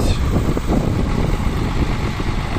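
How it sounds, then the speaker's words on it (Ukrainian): A wide-track tractor engine idles in a steady, loud, rumbling drone, heard close with no break and no voices. "трактор на широкому ходу в нас стоїть"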